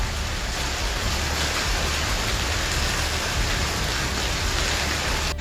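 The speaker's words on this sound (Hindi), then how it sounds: "देखते ही देखते आसमान से पहले बारिश और ओलों की बरसात होने लगी।" Heavy rain with hail pounding down during a storm that followed a dust storm, a dense, loud, unbroken hiss of drops and pellets striking surfaces, steady throughout and without talk.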